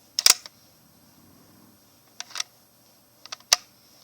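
A Kjw Works M700 Marine airsoft sniper rifle fires with sharp, close mechanical clicks and snaps, spaced out in three separate bursts over quiet background.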